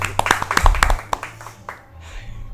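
A short burst of scattered hand claps, several sharp slaps close together, fading into quiet room noise.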